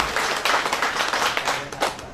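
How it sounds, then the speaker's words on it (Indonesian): An audience at a village hamlet celebration claps together in a brisk, fairly loud burst of applause, individual hand claps standing out in a quick, uneven rhythm. "Tepuk tangan kagem Kedung Kupit dan Kaliduren."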